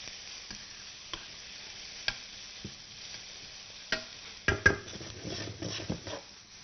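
Onions fry in a pan with a little butter, a soft background sizzle broken by sharp knocks of a spoon or spatula against the pan, the scraping and clatter growing busier toward the end; nobody speaks.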